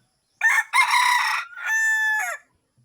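A wild junglefowl rooster crows nearby, loud and alone: a short opening note, a brief gap, then a long strained call that trails off.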